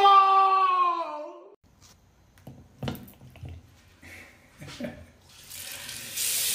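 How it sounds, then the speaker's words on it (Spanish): Water runs from a tap in a short burst near the end, following a sustained tonal sound at the start and a few soft knocks. "¡Ciérrale al agua! ¡Lávate las manos, pero no desperdices el agua!"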